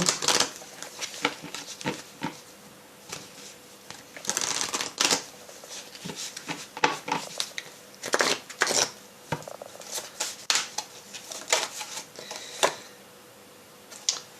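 Tarot cards being reshuffled by hand, a dense run of crisp papery riffles and slaps in irregular bursts, close and clear with no talking.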